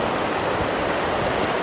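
River water running beneath a rickety wooden log-and-stone footbridge in a border village, the water level low; a loud, unbroken rushing close to the microphone.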